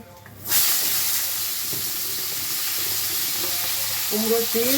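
Vegetables frying in hot oil in a kadai, with panch phoron and bay leaves tossed in, a steady close sizzle and hiss that jumps up loudly after a quiet start and holds throughout.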